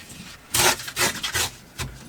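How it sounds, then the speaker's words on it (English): A sheet of paper in a junk journal being torn along a fold, heard as several short rasping rips in bursts, close and fairly loud, with no talk. "Then I think I'll break this in half on this fold."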